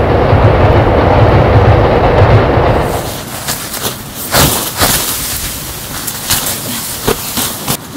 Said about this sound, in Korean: 기차 다닌다.